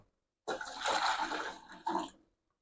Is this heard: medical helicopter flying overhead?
no